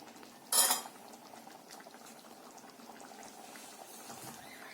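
Dal palak of lentils and spinach simmering in a pot, heard as a quiet, soft bubbling with one sharp metallic clink of a utensil near the start.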